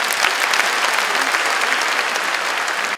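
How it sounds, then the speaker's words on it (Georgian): An audience at a charity concert bursts into sustained applause for a performing ensemble, a thick, even roar of clapping from a large crowd that holds for several seconds before cutting off. "განსაკუთრებული აპლოდისმენტები მათ"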